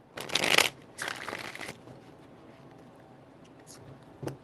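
Playing cards are shuffled in a few quick riffles close by, with two louder bursts early and a brief rustle near the end.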